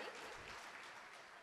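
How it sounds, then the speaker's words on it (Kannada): Audience applause at a school annual day celebration, a dense steady wash of many hands clapping throughout, moderately faint and distant, with no clear voice over it. "ದಯವಿಟ್ಟು ತಮ್ಮೆಲ್ಲರ ಚಪ್ಪಾಳೆ ಮೂಲಕ ಅವರಿಗೆ ಒಂದು ಗೌರವವನ್ನ ಸಲ್ಲಿಸಬೇಕಾಗಿ ವಿನಂತಿ."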